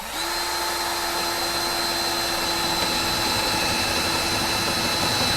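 A Craftsman CMCD700 cordless drill runs on speed 1 with a 5/8-inch paddle bit, giving one continuous close whine with a steady motor hum and no talk.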